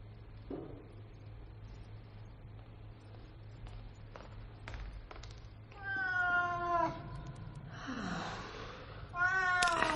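A cat meows several times in the latter half, the calls growing louder and more insistent, after quiet shuffling and faint clicks.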